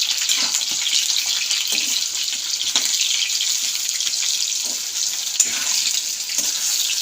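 Potato and brinjal sizzle steadily in hot oil, a constant bright hiss with occasional soft knocks of stirring and no talking.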